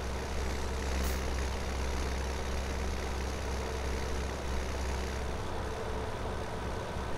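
A steady low tractor engine drone rumbles continuously, like idling, with a constant hum and no voices, game audio from Farming Simulator 2017.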